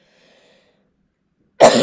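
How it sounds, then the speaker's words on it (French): A single sharp cough bursts out near the end after a long near-silence, loud and close, with a short rough tail. "Je sais pas pourquoi on me fait tousser."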